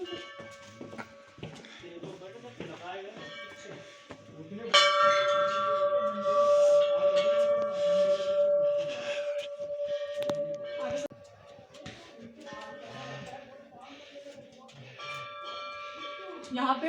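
Bells ring at Dunagiri temple in Uttarakhand, hung there as offerings by devotees. Sustained metallic tones swell and overlap, clearly audible beneath people talking nearby.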